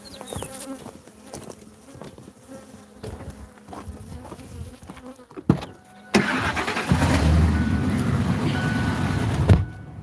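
Buzzing bees hum close by with scattered knocks and rustles, then a loud engine-like drone rises and holds steady for the last few seconds.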